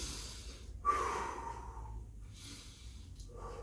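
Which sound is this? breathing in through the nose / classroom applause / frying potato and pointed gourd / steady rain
breathing in through the nose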